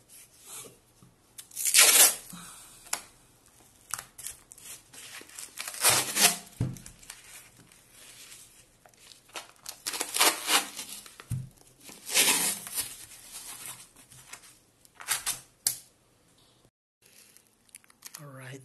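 Tape being torn and pulled off a roll to wrap a 4S 16V battery pack with a BMS, close-up bursts of ripping and crinkling repeating irregularly over many seconds, with quiet handling noises between.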